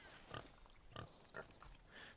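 A pig in a pirate video game oinks on Pig and Snake Island, three short grunts spaced about half a second apart, fairly faint over a steady ambient hiss.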